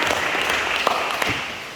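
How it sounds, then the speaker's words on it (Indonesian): Brief burst of applause from a seminar audience at an agency development event, a dense wash of clapping at steady loudness with no talk over it. "Ya, tepuk tangan buat kalian."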